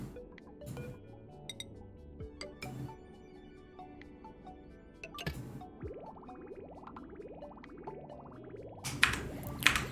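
Water pouring into a storage tank in the colony-building game Oxygen Not Included, heard as soft gurgling, dripping and sliding liquid tones under game ambience, with occasional glassy clinks and brighter splashy bursts near the end.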